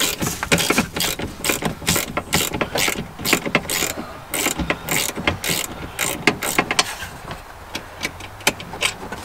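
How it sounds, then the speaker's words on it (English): A socket wrench ratchets rapidly on the seat bolts of a Chrysler PT Cruiser being removed, giving loud, close clicking bursts with short pauses between strokes. "you need a 15-inch socket and a wrench, and then you set it down over here like this, and then you start taking it apart"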